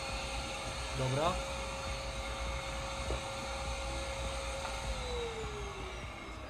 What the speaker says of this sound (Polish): Ja muszę atakować, chodzić z odkurzaczem i ściągać te normalnie owady.